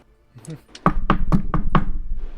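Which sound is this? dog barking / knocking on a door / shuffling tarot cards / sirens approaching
knocking on a door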